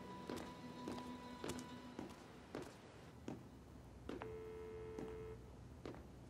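A telephone being dialed before a call, heard as a series of short tones and sharp taps spaced about a second apart, followed by a longer steady tone, moderately close.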